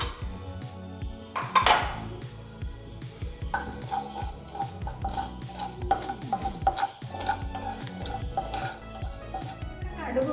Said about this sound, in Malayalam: ആദ്യം കടുക് ഉലുവായിട്ട് വറക്കുകയാണ്